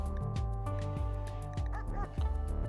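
Several dogs in the colony game RimWorld bark and yip in quick overlapping bursts over steady background game music, moderately loud and close.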